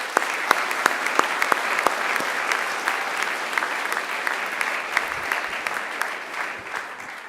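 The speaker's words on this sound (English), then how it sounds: "Let's give Angela another great round of applause." Graduation ceremony audience applauding steadily, a dense wash of clapping with a few sharper individual claps standing out, sustained throughout and easing slightly toward the end.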